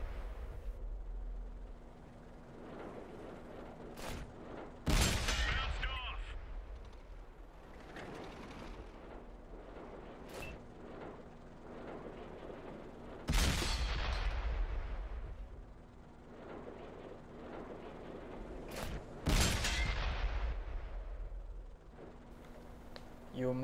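Tank cannon fire from a T-62A in World of Tanks on the Prokhorovka map, several sharp booming shots spaced several seconds apart over a rumbling engine and battle ambience.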